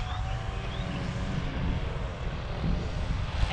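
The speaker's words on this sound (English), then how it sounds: "they're doing their lawn maintenance, so yeah. I'm sorry if you hear that." Lawn maintenance equipment running outdoors at an RV park beside a lake, a continuous broad engine drone that stays fairly steady and moderately loud throughout.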